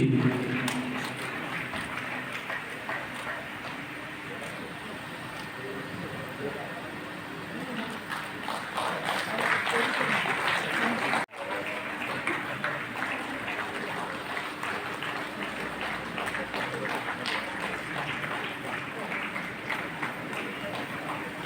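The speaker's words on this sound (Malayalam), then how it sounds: "നിറഞ്ഞ കൈയടികളാവട്ടെ" Dense audience applause at an award presentation held during a Narayaneeyam recitation event in Puri, a steady broadband clatter of many hands that runs throughout with a brief break near the middle, a voice heard over it.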